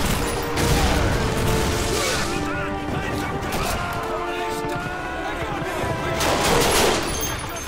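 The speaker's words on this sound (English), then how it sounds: "Dude, he's fucking shooting me." Call of Duty 2 gunfire, played on the Back2Fronts mod: rapid bursts of rifle and machine-gun fire with sharp cracks and echoing booms, loud and close, with bursts swelling and easing across the span.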